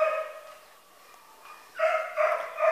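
A four-year-old dog at a rescue shelter barks in loud, repeated yips, a cluster at the start, a quieter stretch, then a burst of sharp, close barks near the end.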